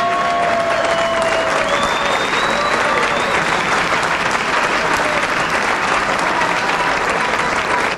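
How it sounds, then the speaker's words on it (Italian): Sustained, loud applause from a crowd at an airsoft event gathering, steady clapping filling the whole stretch with a few whistles rising above it. "Un grossissimo applauso."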